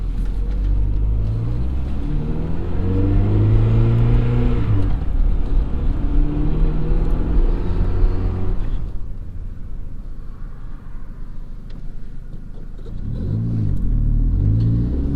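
A PT Cruiser racecar rumbles along under its own power, its engine loud and steady with rising and falling revs, then quieter before building again.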